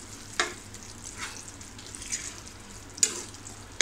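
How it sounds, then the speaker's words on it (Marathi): Prawn masala with a few kokum pieces sautéing in a pan, a soft steady sizzle with occasional louder stirring scrapes, close by and with no talking. "कोकमं टाकून थोडं असं फक्त परतून घ्यायचं आहे."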